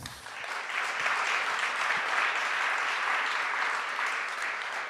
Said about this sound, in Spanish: para el que pido otro aplauso